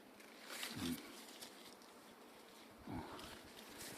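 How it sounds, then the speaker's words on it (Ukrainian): Bees buzz around blooming hybrid kiwi (actinidia) vines in a sheltered shady spot, a faint drone with a couple of louder passes as insects fly near, in a quiet outdoor setting. "тут дуже багато бджіл"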